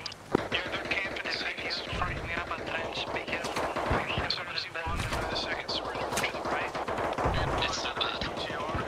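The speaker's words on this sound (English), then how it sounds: "Who the fuck is shooting at us?" Gunfire in Arma Reforger: rapid shots and automatic bursts crackle throughout, some near and sharp, others more distant, mixed with people talking over the shooting.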